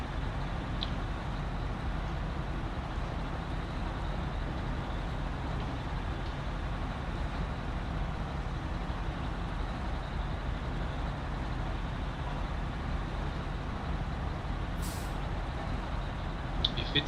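A heavy truck in the video game Snowrunner drives with a steady, continuous engine drone and rumble, loud and unbroken for the whole stretch, with no talk over it.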